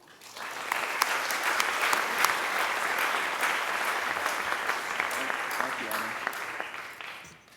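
Audience applause welcoming a lecturer to the stage, a dense sustained clapping from a crowd that swells quickly, holds steady for several seconds, then fades out.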